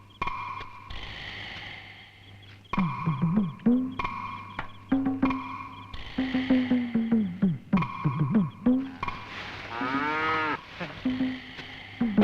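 A cow lowing repeatedly, several long, loud, close moos in a row with short pauses between them, alone with a low steady hum underneath.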